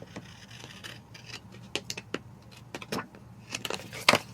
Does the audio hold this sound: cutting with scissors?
yes